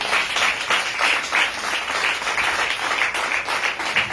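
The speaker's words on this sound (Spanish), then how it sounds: "Den un fuerte aplauso al Señor." A congregation at a church service claps together in strong applause, a loud, close burst of many hands with a slightly pulsing, rhythmic quality that holds steady throughout.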